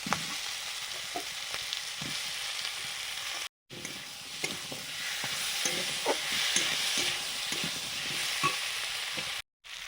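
Potatoes frying in a pan with turmeric and chili, a steady close sizzle with frequent stirring scrapes and clatters, interrupted twice by brief cuts to silence.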